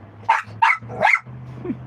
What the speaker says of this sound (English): Oh, she does that double bark